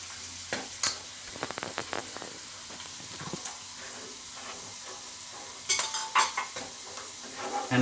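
Spinach and mustard greens mixture for sarson ka saag being stirred in a pan, with scraping spoon strokes and clinks, a quiet sizzle underneath and a louder burst of stirring and bubbling near the end.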